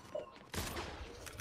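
Sniper rifle fire in the video game Fortnite: a sharp shot hits midway through, with a short ringing tail and game ambience behind it.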